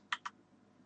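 Two quick, crisp keystrokes on a computer keyboard, close and clear against a quiet room, spaced about a beat apart.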